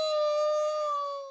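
A long werewolf howl in an audio drama, a single sustained tonal wail that holds steady and then slides slightly downward as it fades, loud and close with no talk over it.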